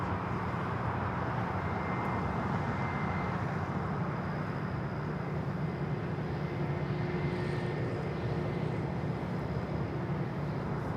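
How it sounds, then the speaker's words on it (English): A Volaris Airbus A320 arriving at LAX from Oaxaca, cleared to land on runway 25 left, gives a steady, broad jet roar that holds evenly throughout at moderate distance, with no talk. "Volaris 7848 coming in from Oaxaca on the A320."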